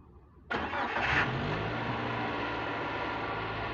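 A Daihatsu Gran Max engine cranks briefly and catches, then settles into a steady, loud idle close by, with no talk.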